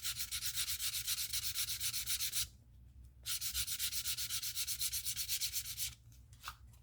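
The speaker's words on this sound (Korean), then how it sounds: "그때 이제 사포를 해주는 겁니다." Fine 400-grit sandpaper rubs back and forth along the cut edge of leather in quick, even strokes, a close, rhythmic scratching that pauses twice before resuming.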